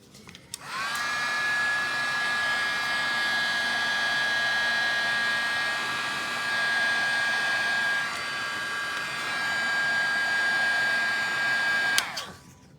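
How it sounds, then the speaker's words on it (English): An embossing heat gun blows hot air at a paper-crafting desk: a steady, loud whirring rush with a high whine that starts abruptly, holds nearly constant for about eleven seconds with slight shifts in pitch, then cuts off. "I actually brought my extension cord out so I could have my heat tool here right by the desk."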